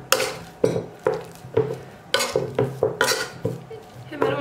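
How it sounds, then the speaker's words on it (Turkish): Hot boiled potatoes with a little cooking water left in the pot are mashed by hand, giving a steady run of soft squelching thumps and scrapes, close and moderately loud, with no talking. "Hemen patatesleri sıcağıyla eziyorum."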